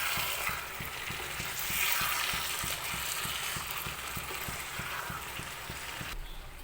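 Chicken masala frying and being stirred in a pan, with a steady sizzle and regular spoon scrapes keeping an even rhythm, close and moderately loud throughout, no voices.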